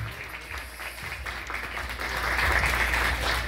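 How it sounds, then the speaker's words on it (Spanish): Audience applause at a pageant, a dense crowd clapping that swells louder toward the end, steady and sustained. "Démosle un fuerte aplauso."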